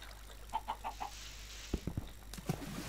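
Chickens in the video game Minecraft cluck several times in quick succession, fairly faint over a steady low background hum, with a few sharper bursts near the end.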